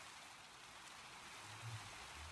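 Steady, soft rain falls continuously in the Minecraft video game, a faint even hiss with no voices over it.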